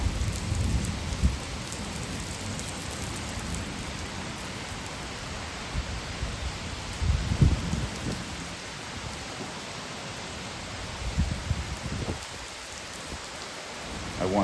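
Steady, dense rain pours down during a summer thunderstorm in Manorville, a continuous hiss of drops on surfaces, with a few low rumbling swells of distant thunder rising above it.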